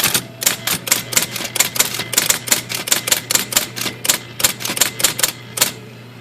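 Rapid keystrokes on an old IBM Model D electric typewriter, freshly cleaned and fitted with a new ribbon, clacking in a steady, close, loud run of about two dozen sharp strikes with a low motor hum underneath.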